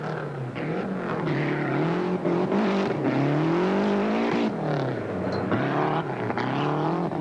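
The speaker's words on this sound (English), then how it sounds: "Didier Auriol reaching the latter stages now of his 1991 Rothmans Rally of New Zealand." Didier Auriol's rally car drives a narrow, slippery gravel stage at the 1991 Rothmans Rally of New Zealand. Its loud, close engine rises and falls through gear changes, with no talk over it.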